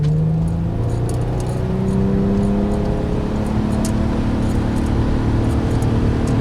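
A high-mileage Nissan Murano accelerates with a transmission that won't shift. Its engine drones steadily from inside the cabin, the pitch slowly rising without any gear change, while faint rattles tick above the drone.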